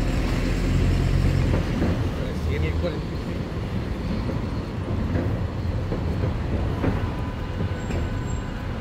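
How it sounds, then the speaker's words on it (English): Subway train of the C line rumbling beneath Central Park West in New York, a steady low roar with clattering rail transients under street noise, loud and continuous. "subterráneo aquí abajo por esta avenida, que es el tren C, el 3A y el 3D, que pasa por aquí"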